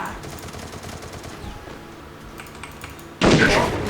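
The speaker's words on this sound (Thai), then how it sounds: "ยิงรัวรัวครับ ยิงรัวรัว" Rapid gunfire rattles in a Free Fire mobile shooting game, steady quick shots running under background game noise before a sudden louder burst near the end.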